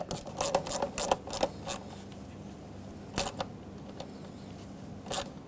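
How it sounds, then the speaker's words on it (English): An 8mm socket ratchets on the air intake coupler clamp of a 2011-2016 Ford F-350 with a 6.2L V8, with bursts of quick, close clicking separated by pauses and no voices. "Use an 8mm socket to tighten up this clamp."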